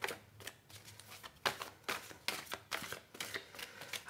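Tarot cards being shuffled in repeated riffling bursts, crisp papery rustles with brief pauses between rounds, close and fairly quiet, with no talking.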